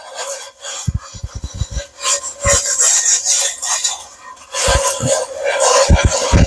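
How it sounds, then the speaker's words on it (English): Scrubbing a cast iron pan clean, with repeated rough rasping strokes in uneven bursts, some sharp and close, that pause briefly before resuming more densely. "it does take a little bit of cleaning, a little bit of scrubbing, or as my mother-in-law says, scouring"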